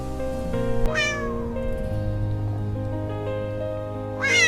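A kitten meows twice, once near the start and again at the end, with a steady background hum and patter underneath.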